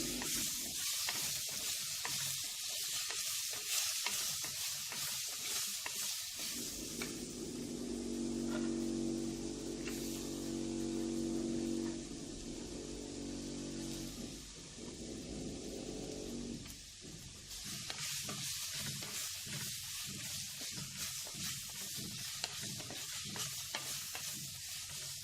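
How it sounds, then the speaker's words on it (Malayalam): Sliced onions sauté and sizzle in a pan for a Malayalam-style squid masala, a steady close hiss broken by scraping stirs, with the frying crackle swelling and easing as the pieces are turned. "സവാള നന്നായി വഴറ്റുക."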